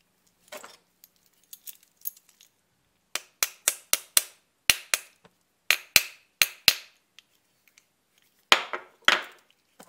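Pressing the dust cap onto a 1950 Duerkopp coaster brake hub from Bielefeld gives a string of sharp, close metallic taps and clicks. A few light ticks come first, then a quicker irregular run of crisp knocks.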